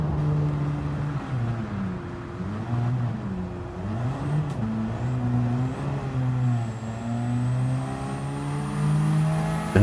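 A race car in a racing video game on Trial Mountain idles along toward the pits, its engine drone rising and falling through steady gear-like harmonics, loud and continuous with no talk.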